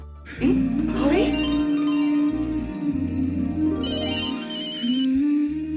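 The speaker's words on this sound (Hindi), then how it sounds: "जेठालाल का फोन।" A phone ringtone plays loudly as a repeating electronic melody, carrying on for several seconds with no voices over it.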